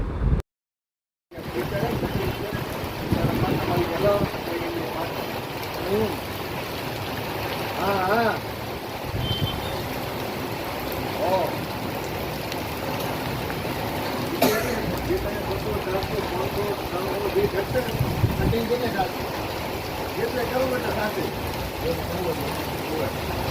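Rainwater washing across flooded roads during an evening downpour around Adesar, a steady broad watery rush with passing vehicle noise and some talk over it.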